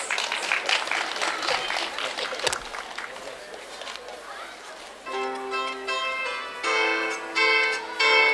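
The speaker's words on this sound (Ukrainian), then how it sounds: "Давайте подарим им аплодисменты." A live audience gives a loud burst of clapping for a family of bandura players. The applause lasts about five seconds and then fades as bright plucked bandura strings begin.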